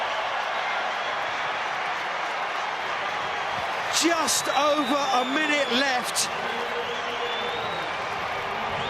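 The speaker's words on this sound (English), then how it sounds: "the Worcester crowd go absolutely bananas here" Worcester Warriors rugby crowd at a semi-final against Bedford roaring and cheering in a sustained wash of noise, with a commentator talking over it and whistles or shouts rising near the middle.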